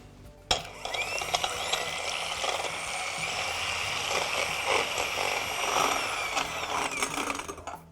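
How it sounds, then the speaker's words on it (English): Two egg whites whisked by hand in a very clean bowl toward soft peaks, a steady, fast scraping and ticking of wire against the bowl that carries on without a break the whole time, close and fairly loud. "and then whisk them up to soft peaks"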